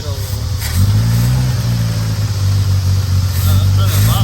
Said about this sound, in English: We're gonna let it idle.